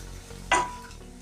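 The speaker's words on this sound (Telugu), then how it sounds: "మసాలాలు మొత్తం అన్నీ కలిసేటట్టు కలుపుకోవాలి" A spoon scrapes once through chili powder, garam masala and coriander powder in an oil-filled pan for egg fry roast, a single short stirring scrape with a faint ringing tone amid a low background, close by.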